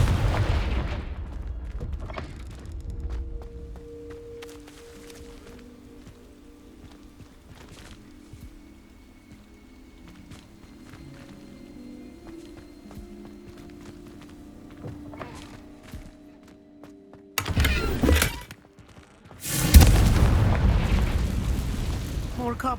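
Blasting-spell explosions from Hogwarts Legacy erupt near the end as two heavy, booming bursts after a long, quieter stretch of ambient game sound and character dialogue.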